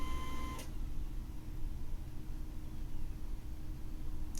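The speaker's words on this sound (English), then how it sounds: "it will print out a copy of the spectrum" An office printer runs out a paper copy of an NMR spectrum, making a steady, fairly loud mechanical whir and hiss with a brief click near the start and another at the end, and no voices.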